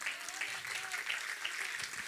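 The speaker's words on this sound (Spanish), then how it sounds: "Dele un aplauso al Señor." Church congregation applauding together, a steady dense wash of clapping that holds evenly from start to finish with faint voices mixed underneath.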